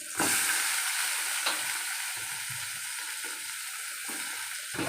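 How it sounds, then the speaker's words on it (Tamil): Mint leaves sautéing in a hot kadai with fennel, onion and tomato, giving a steady close hiss of frying broken by soft stirring scrapes and clatters, with no talk. "புதினா தழை நல்லா வதங்கட்டும்."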